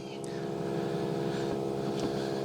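A Viair portable air compressor runs steadily nearby with a droning, buzzing motor hum and a couple of faint clicks, loud and continuous without talk.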